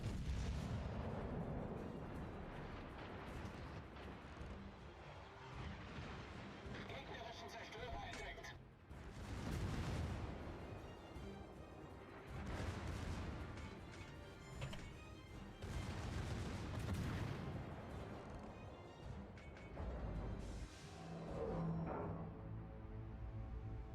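Odin battleship secondary guns firing in World of Warships, repeated deep booms and cracking shots in irregular bursts over a low rumble, mixed with game effects and a talking voice.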